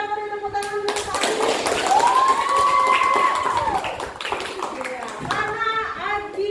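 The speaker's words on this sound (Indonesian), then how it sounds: "Kita beri tepuk tangan dulu Adi." Clapping in a classroom for a pupil who answered quiz questions fastest, mixed with children's voices and a rising whistle-like tone, lively and close throughout.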